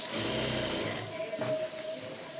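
A sewing machine stitching a small child's blouse, its motor whirring in a steady rapid run close by, slowing and trailing off partway through.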